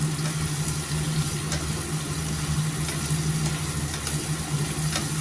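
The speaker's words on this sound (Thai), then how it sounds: "ให้ร้อนหน่อยผัดผัดให้พริกมันสุกก่อนนะคะ" Chilies stir-frying in a hot pan for a Thai stir-fry of roast duck and pickled mustard greens, a steady, even sizzle with a low hum beneath it and faint scrapes, continuing without talk.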